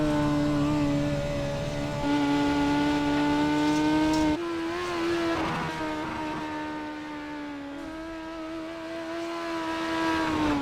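Race cars on single-car qualifying laps scream at high revs, the engine note holding steady as if bouncing off the rev limiter, then dropping and climbing again as they head into corners, loud and continuous with no talk.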